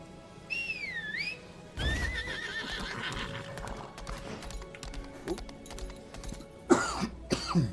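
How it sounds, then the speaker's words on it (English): A few harsh coughs stand out near and loud between a horse's whinnies and clip-clopping hooves, with faint whistling early on. "Apologize for the coughing."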